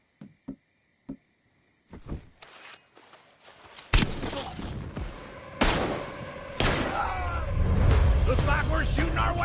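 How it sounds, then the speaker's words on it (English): Gunfire in the Red Dead Redemption video game, beginning with a few sharp isolated shots over quiet, then breaking into a dense, loud barrage of overlapping blasts and clatter with voices mixed in. "Looks like we're shooting our way out of here, fellers"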